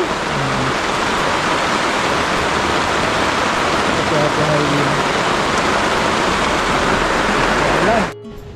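Heavy rain pours down in a loud, dense, unbroken hiss close by, drowning out faint voices underneath before cutting off abruptly near the end.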